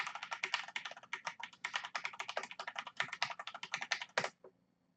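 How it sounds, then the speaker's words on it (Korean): Steady typing on a Corsair K70 LUX mechanical keyboard with Cherry MX Red switches, a fast, even stream of close keystroke clacks that stops abruptly near the end, with no voices. "자, 커세어 적축으로 써볼게요."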